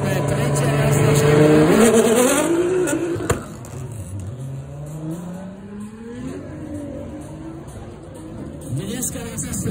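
Skoda 100-based race car at Slovakia Ring, its engine revving loud and high before easing off and dropping into a lower, fainter drone with changing pitch as it drives on, while a voice talks over it.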